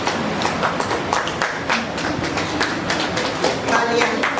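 Steady applause from a crowd at a church feast in Delhi, scattered clapping that continues evenly for several seconds, moderately loud and close.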